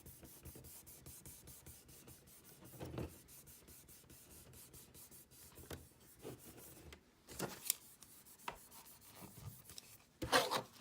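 Glitter vinyl rubbed down onto a tumbler by hand, a soft, close, steady rubbing and brushing with a few louder swipes and small knocks near the end.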